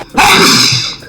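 A single loud, close sneeze, one sharp burst lasting about a second with no other sounds around it.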